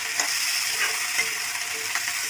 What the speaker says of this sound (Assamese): এইখিনি এতিয়া লৰাই দিছোঁ,